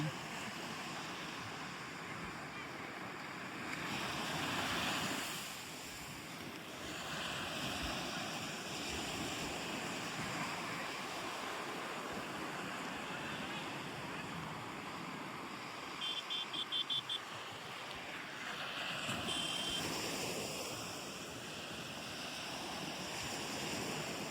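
Sea waves rolling onto the shore in a continuous low wash, with swells building around the fifth and twentieth seconds and wind buffeting throughout, fairly faint and without speech.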